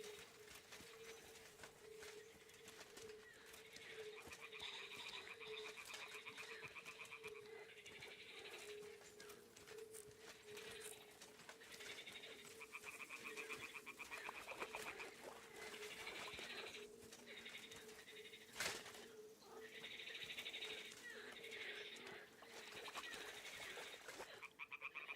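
Toads croak in repeated bleating bursts across a night landscape in Kingdom Come: Deliverance II, a steady chorus of rhythmic calls at moderate distance over a constant ambient hum, with no talk.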